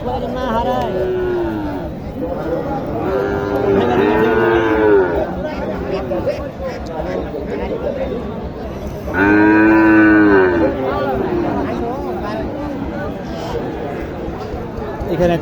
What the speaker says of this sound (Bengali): দেখি গরুটা একটু দেখি